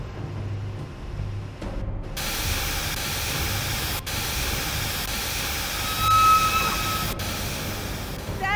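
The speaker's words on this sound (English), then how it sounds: "Steam has been vented." Steady broadband hiss of steam venting in Jurassic Park: The Game, a continuous rushing noise that holds at near-constant loudness throughout, with a brief thin whistle-like tone partway in.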